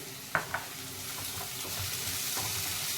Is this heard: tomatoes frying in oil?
yes